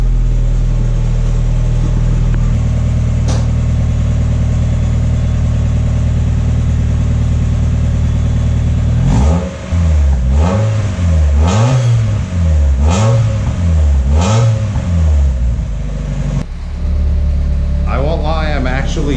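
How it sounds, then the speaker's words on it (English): A Mazda Miata engine fitted with a cheap eBay exhaust idles deep and steady, then revs repeatedly in rising and falling blips, loud and close, before dropping back. "Here, I'll give you guys some revs."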